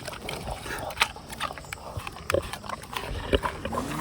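A farm pig grunts and oinks while being fed apples from a bucket, several short snorts scattered among rustling and movement noises close by.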